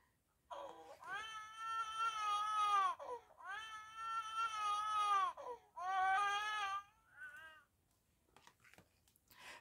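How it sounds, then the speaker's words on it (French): A baby wails in three long, loud cries separated by short gasps, then trails off into quieter whimpers. "il se met à crier. Écoute-le pleurer."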